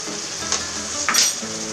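Garlic hits a hot frying pan with chicken and peppers and bursts into a loud, steady sizzle, with a couple of brief clinks from the pan partway through.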